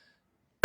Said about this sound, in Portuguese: Perdão, gente, a tosse.